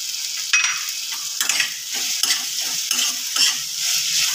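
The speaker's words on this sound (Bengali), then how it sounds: "লেবুটা দিয়েও মিনিটখানেক ভালো করে নেড়ে চেড়ে" Kochur loti (taro stolons) frying in a pan with spices and half a squeezed lemon's juice, stirred with steady scraping strokes over a constant close sizzle, no talk.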